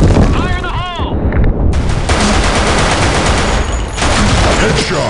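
Loud, sustained gunfire from the first-person shooter game BlackShot, with rapid bursts and shots running nearly continuously, plus a brief warbling effect near the start and voices mixed in.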